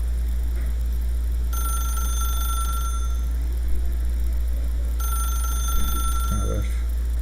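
A telephone rings in the video game The Stanley Parable. Two sustained electronic bell rings are separated by a short pause and sound clear and moderately loud over a low steady hum.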